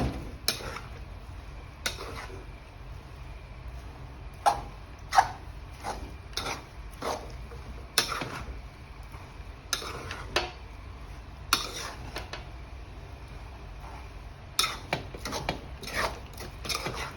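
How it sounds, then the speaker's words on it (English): Spoon stirring Edikaikong vegetable soup in a pot after a pinch of salt goes in, a run of soft scraping strokes against the pot's sides that repeats steadily, close up and quiet, with no talking. "Then I stir it."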